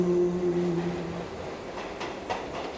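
The Kalka–Shimla toy train rolls along with a steady rumbling clatter, opening with a sustained horn-like tone that fades after about a second, followed by a couple of sharp metallic clicks near the end.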